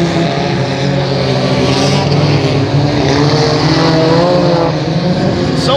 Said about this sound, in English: So much action with so many cars on the track.